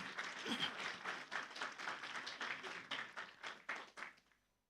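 A church congregation at a Sunday service applauds a music group with soft, distant clapping whose uneven claps stay distinct before it dies away.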